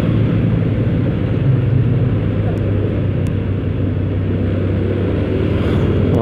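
Busy main-road traffic is heard from a moving motorcycle during a New Year ride, as a dense, steady engine and wind roar close up, with passing vehicles blending into a continuous rumble.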